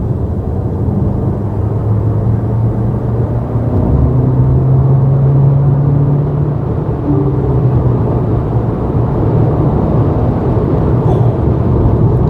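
A 2021 MG HS Excite PHEV plug-in hybrid SUV accelerates hard on an open road, heard from inside as a steady, loud low road-and-engine drone with a rising tone, with no speech over it.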